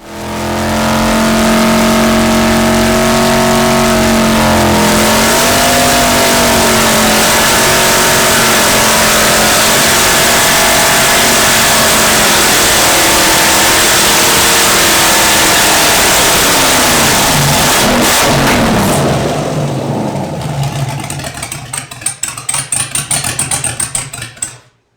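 Car engine on a homemade engine dyno, running loud and close with throttle operated by hand, revving in steady held rises before easing off and sputtering down near the end, no talk.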